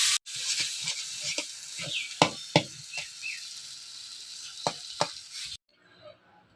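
Ash gourd hitting a hot pan of garlic, onion and green chili fried with salt and turmeric, a steady close sizzle with several sharp stirring knocks and scrapes, ending abruptly in near quiet.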